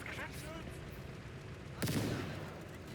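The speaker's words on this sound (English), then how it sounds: "Mortar spam." Mortar round firing in Call to Arms: Gates of Hell, a single sharp blast with a rumbling decay, rising from a low murmur of battlefield background.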